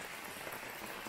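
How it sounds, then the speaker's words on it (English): Dense, steady downpour in a jungle hissing continuously, a broad wash of heavy rain close all around with no pauses. "It just started to pour down rain."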